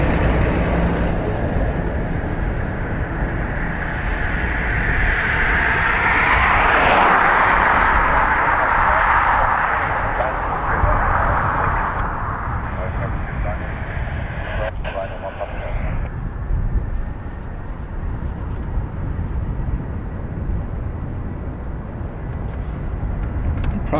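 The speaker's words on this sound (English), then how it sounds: "This is the Ryanair" Ryanair airliner at Dublin Airport, a broad jet engine roar that swells to a loud peak then eases into a steady rumble, with people talking over it.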